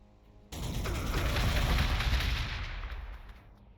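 Heavy gunfire and battle noise from the Warhammer 40,000: Gladius strategy game during an Ork fight, a sudden loud burst of booming, rattling shots that sustains densely for about three seconds before tapering off.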